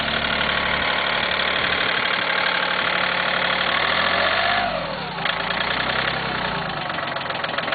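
A Cub Cadet tractor engine idles steadily up close, a loud, even mechanical chug whose pitch dips and shifts briefly partway through before it settles back to a smooth idle.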